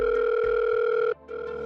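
A landline telephone sounds a steady electronic tone, close and loud, cutting out briefly near the end before resuming more quietly.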